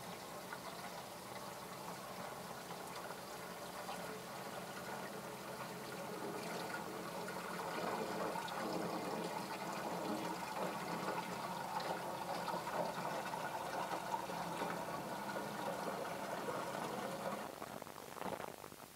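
Water pours steadily into the water box of a Kico sterilizer, a continuous rushing, splashing stream that swells slightly louder midway and runs unbroken with no talk.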